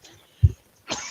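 A single sharp, close cough bursts out, followed a moment later by a breathier, rougher throat-clearing sound, with quiet room tone between.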